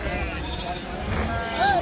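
Sheep bleating at the Pebbair sheep market, a short bleat rising near the end over a bed of crowd chatter and someone talking nearby.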